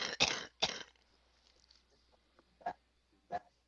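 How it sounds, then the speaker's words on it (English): Two sharp coughs come close together, followed a couple of seconds later by two softer, shorter coughs or throat clears in a quiet room. "A little cough there."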